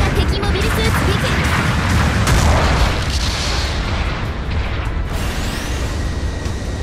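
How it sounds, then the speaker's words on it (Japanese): A sustained support artillery barrage in Mobile Suit Gundam Battle Operation 2 rumbles as a continuous wall of loud booms and blasts, heavy and dense throughout with no quiet gaps. "後方部隊から支援砲撃が来ます。"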